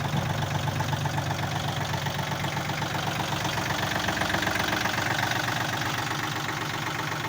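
A small diesel engine of a Yanmar US301 compact tractor idles steadily with an even, rhythmic chugging, close and continuous, with no voices.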